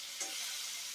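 Fish curry masala for chara pona fish sizzles steadily in a pan as the oil separates from the melted tomatoes, a close, even hiss with a brief stir near the start.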